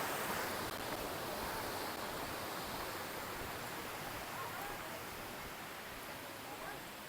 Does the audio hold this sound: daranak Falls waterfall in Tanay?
yes